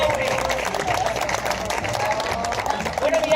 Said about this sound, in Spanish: Un aplauso a la gente del Gallego Burín.